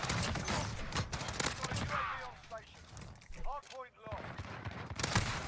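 Gunfire in the video game Call of Duty: Modern Warfare during a CDL 2020 match, with sharp repeated bursts of shots and clattering mechanisms mixed under someone talking excitedly.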